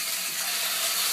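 Garlic and meat sizzle steadily in a frying pan while cooking mapo tofu, a continuous close hiss of frying with faint stirring, ending in a brief louder knock.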